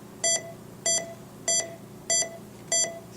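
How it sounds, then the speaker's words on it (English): Staff emergency tone from an Ascom Telligence C600 nurse call master station: five identical bright electronic beeps, evenly spaced about 0.6 seconds apart, each short and clear over a faint steady hum. "you can hear that the tone is different at the master."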